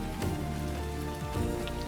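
Rain falls steadily in the video game DotAGE, a dense continuous patter under a layer of soft game music, with no talking.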